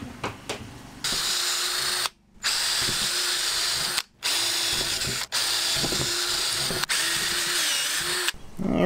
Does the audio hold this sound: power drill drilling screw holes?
yes